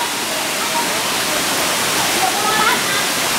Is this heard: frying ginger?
no